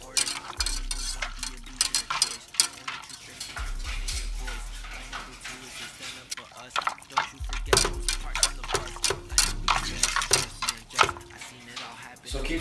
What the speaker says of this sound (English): keep stirring it until it has a nice chocolatey brown color